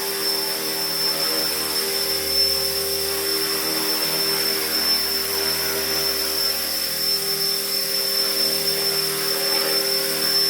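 A repaired Blade 330S radio-controlled helicopter spins up on a test run, its rotor and motor giving a steady high-pitched whine with stable tonal hum, close and constant throughout, with no talk.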